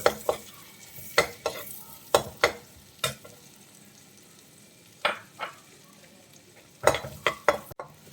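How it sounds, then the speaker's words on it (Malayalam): Garlic sautéing in a pan for garlic chicken, with a steady low sizzle under sharp, irregular scrapes and knocks of a spoon stirring against the pan, close and clear with no talking. "അത് നമുക്കിതിലേക്ക് ചേർത്ത് കൊടുക്കാം. ഇനി ഒന്ന് വഴറ്റിയെടുക്കാം."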